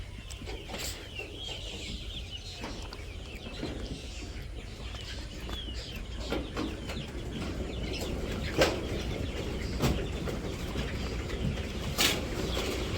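Village chickens cluck and scratch about as they are fed in the morning, with scattered soft clucks and occasional sharper calls over a steady outdoor background.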